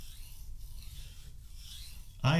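A kitchen knife drawn across a 3000 grit whetstone, giving a soft, steady rasping scrape in slow repeated strokes, close and fairly quiet, ending with a brief louder knock.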